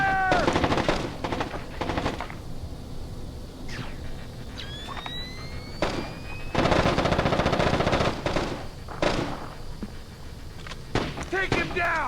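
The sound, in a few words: gunfire in a video game (Splinter Cell: Chaos Theory)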